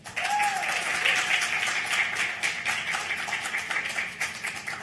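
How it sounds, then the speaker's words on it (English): Sustained applause from a panel discussion audience, steady and dense for the whole stretch with a brief faint whistle early on, no speech over it. "How about a round of applause?"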